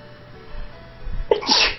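A single sharp human sneeze bursts out near the end after a brief inhaling buildup, loud and close against a quiet background.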